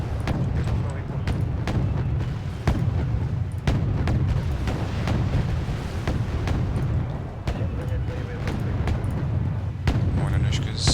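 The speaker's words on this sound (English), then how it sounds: "Still firing anti-ship missiles, but they seem to be coming in a bit slower than they used to" Repeated booms of anti-ship missiles launching in the strategy game Wargame Red Dragon, irregular sharp blasts every second or so over a low continuous rumble of battle, with a voice talking throughout.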